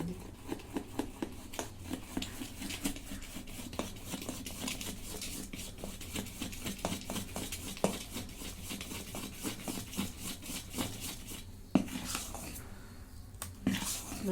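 Wet, rhythmic slapping and squishing of dosa and idli batter being stirred in a pot, steady repeated strokes with a few louder clanks against the rim.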